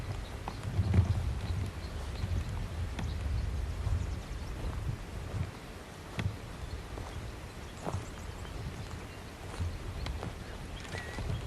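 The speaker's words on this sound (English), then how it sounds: "Little donkey." Hooves of a small donkey clip-clop along at a steady walking pace, fairly close, over a rough outdoor rumble with light wind noise on a 1989 home recording.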